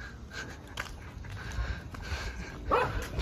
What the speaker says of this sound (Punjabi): ਮੈਨੂੰ ਤਾਂ ਇਹ ਭੌਂਕਦਾ ਹੀ ਭੌਂਕਦਾ